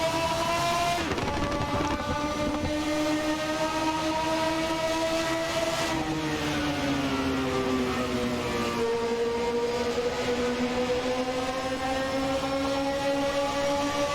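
Simulated 1991 Formula 1 car engine revving near 11,000 RPM in Assetto Corsa, a loud, steady high-pitched whine whose pitch drops and climbs again at gear changes, with no voices.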